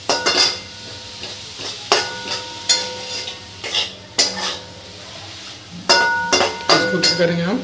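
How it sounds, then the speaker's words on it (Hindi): Liver stirred with salt in a metal cooking pot: repeated sharp scrapes and clinks of a spoon against the pot in uneven bursts, close and loud, with soft sizzling underneath. "नमक डाल दिया और इसको चला लेंगे हम"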